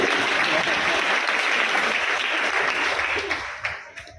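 An audience at a religious discourse clapping together, a full sustained round of applause that thins out and fades toward the end, with a few isolated claps trailing off.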